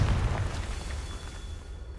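A Confringo fire spell explodes in Hogwarts Legacy, a heavy low boom with a fiery crackle that rolls out and fades over about two seconds, with no voices.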